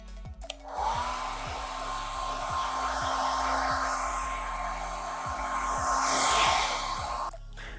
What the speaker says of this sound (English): And then we're gonna blow dry it so that it like freezes it in place.